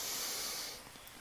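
A deep inhaling breath taken during a guided breathing exercise, a soft close hiss that fades after about a second, heard alone.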